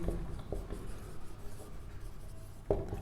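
Maths equations being written produce soft scratchy strokes with a few sharper taps, close and faint over a low background rumble, with no talking.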